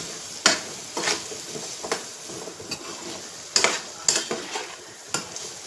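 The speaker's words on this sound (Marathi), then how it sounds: "आणि सर्व एकत्रितपणे व्यवस्थितपणे मिक्स करून घेऊ।" Mango pickle ingredients being mixed together in a pan, a series of sharp spoon scrapes and taps repeating about every half second to a second over a faint sizzle, close by and without talk.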